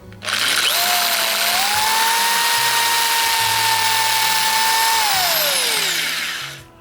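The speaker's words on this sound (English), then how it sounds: "we have it on our drill. We're going to ream it out" A power drill whines steadily at high speed for several seconds, its pitch briefly sagging then rising as it reams out a PVC pipe socket, close and loud.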